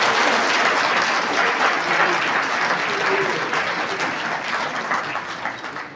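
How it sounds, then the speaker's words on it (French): Sustained applause from a crowd at a ceremony in Côte d'Ivoire, steady and full for several seconds before easing slightly toward the end. "Vous pouvez les applaudir."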